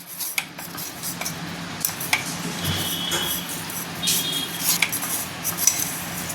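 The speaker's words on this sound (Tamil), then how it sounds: "இதை நம்ம லைட்டாக கிளறி விட்டுக்கலாம், அதாவது எல்லா பக்கமும் வர்ற மாதிரி" Light metallic scraping and clinking of a utensil stirring fenugreek seeds in hot oil in a pan, intermittent and close, over a soft sizzling background.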